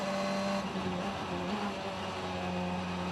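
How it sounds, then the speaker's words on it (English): An FIA FR World Cup race car, a Prema Racing entry, roars around the Macau Grand Prix street circuit in qualifying. Its loud, sustained engine tone steps in pitch as it shifts gears. "Snatches top gear, drops down 2, turns right"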